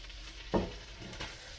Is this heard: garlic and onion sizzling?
yes